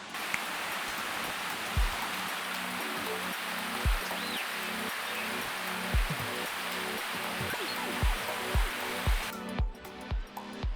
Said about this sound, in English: I wanted a water feature on the property, so I thought a river would be kind of cool